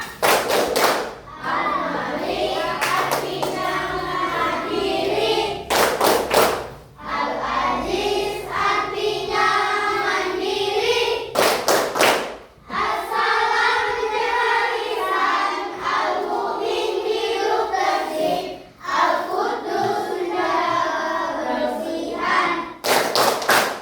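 Children in a class perform the Tepuk 5 Asmaul Husna clapping game, chanting together between bursts of rhythmic group clapping and thumps that come in several short repeated rounds.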